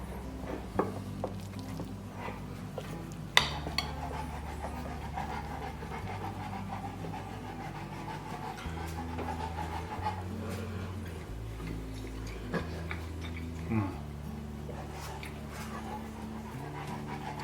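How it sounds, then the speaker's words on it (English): A dog pants quietly in a kitchen, soft rhythmic breaths running low beneath a steady backdrop of faint clicks and household noise, with no one talking. "We've got a panting Rocky down here, if you hear that."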